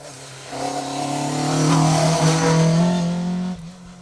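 A rally car on a Protyre Motorsport UK Asphalt Rally Championship stage at Rally Ceredigion approaches and passes, its engine note rising into a loud sustained roar before dropping away abruptly, with no talk.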